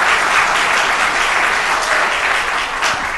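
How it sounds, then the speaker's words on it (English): A city council meeting audience applauds steadily and loudly throughout, a dense wash of clapping with no break and no speech over it. "you should have applauded for the other stuff as well"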